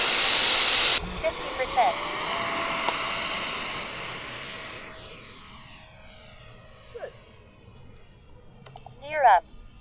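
Raptor 70mm model jet's turbine spooling up at an airfield: a rising whine climbing to a steady high-pitched scream that then fades as it moves off, with people talking over it.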